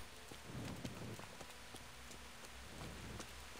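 Steady rain in the video game Kingdom Come patters softly and evenly, a faint continuous hiss with scattered drip ticks and no voices.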